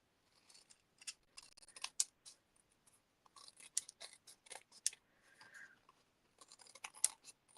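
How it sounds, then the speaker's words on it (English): Scissors snip repeatedly along the edges of card stock scraps, crisp close cuts in quick irregular bursts separated by short pauses, quiet and without talk. "I'm going to trim the edges with my scissors because I find that's easier"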